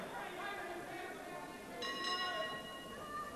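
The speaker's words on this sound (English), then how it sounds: "There's the bell." Ring bell signalling the start of a 1986 professional wrestling match, struck a couple of times in an arena over crowd noise and a commentator's voice.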